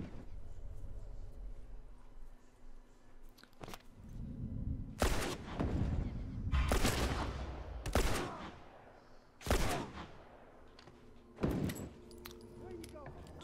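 Gunfire in The Last of Us Remastered, several sharp isolated shots spaced a second or two apart, loud and close, with game ambience and someone talking in between.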